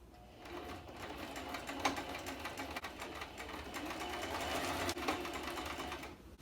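A sewing machine stitches a clothing seam with a steady, close mechanical whir and rapid needle ticking that runs without pause, with no talking.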